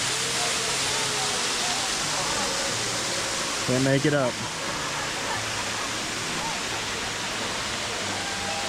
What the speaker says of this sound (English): sliding down what would become a pretty interesting natural waterfall